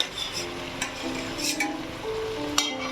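Fried meat and fried potatoes, with taro, are stirred together in a hot pan, a continuous close sizzle broken by repeated scraping strokes and light clinks of the spatula against the metal, with no talking.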